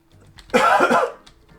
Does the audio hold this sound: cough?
yes